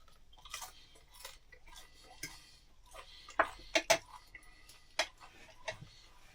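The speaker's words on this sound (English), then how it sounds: "I'm just going to use a knife and fork." A knife and fork clink and scrape against a plate while someone eats savoury broccoli waffles with tzatziki and tomatoes, producing scattered sharp ticks with a few louder taps, close and otherwise quiet.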